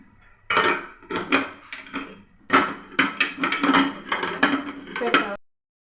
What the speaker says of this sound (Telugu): కుక్కర్ మూత పెట్టుకొని ఉడికించేయాలి